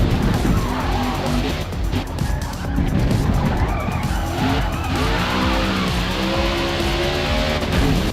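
In a NASCAR racing video game, a race car gets pushed through a chicane, its engine roaring loud and steady while the tires skid and squeal, with no talking.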